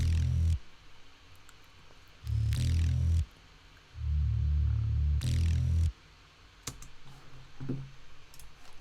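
Gritty, distorted layered synth bassline made in Massive hits in a repeating pattern, thick low rumble with noisy bright edges, pausing briefly between phrases.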